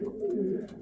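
Young racing pigeons in a loft give a brief, soft, low cooing call up close, with no one talking over it.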